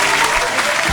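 A short, loud burst of dense clapping, about a second long, in an Urdu reading lesson, with no speech over it.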